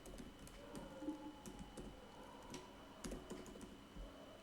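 Quiet, irregular clicking of keys on a computer keyboard, short bursts of typing with brief pauses, fairly close.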